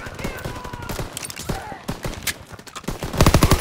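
Gunfire in the World War II shooter Call of Duty WWII crackles in scattered loud shots and bursts, swelling into a dense rapid volley at the end, mixed with battlefield noise and shouted voices.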